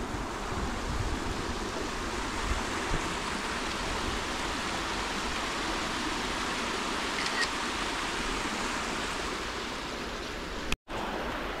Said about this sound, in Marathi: पाणी पण खूप वाजतं आणि पाणी पण भरपूर आहे